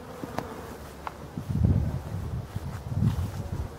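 Honeybees buzz at the entrance of a hive, a soft low droning that swells and fades in short waves, with a few faint clicks and rustles around it.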